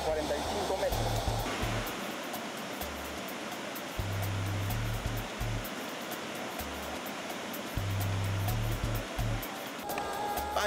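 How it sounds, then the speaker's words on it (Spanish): Dense, continuous roar of a waterfall near Tingo María, Peru, broadband and steady, with a voice speaking intermittently underneath and low rumbling bursts. "el sonido ensordecedor del agua golpeando a tu costado"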